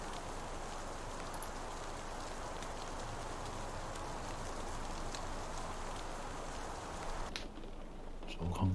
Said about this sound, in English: In fact, you can hear the rain on the roof.